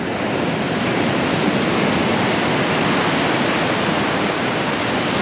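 Choppy ocean waves at Rockaway Beach, New York City, heard as a loud, continuous roar of surf and wind, with no voices over it.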